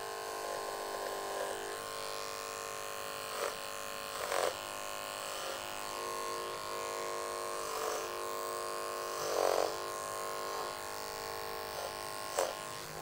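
Hair clippers fitted with a blending blade hum steadily and close while cutting men's hair for an undercut and taper, with brief louder buzzing bursts as the blade passes through the hair.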